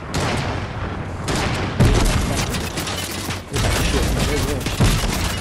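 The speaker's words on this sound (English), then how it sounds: "shoot all their builds, shoot all their builds" Rapid bursts of gunfire from the video game Fortnite, loud and dense, with booms and clattering mechanisms throughout and a player's voice talking over the shooting.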